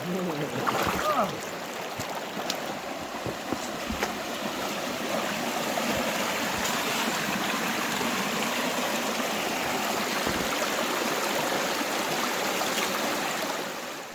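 River water rushes steadily through a gold sluice box, a continuous close broadband wash of flowing stream that holds level for the whole stretch, with a few brief knocks and handling sounds near the start.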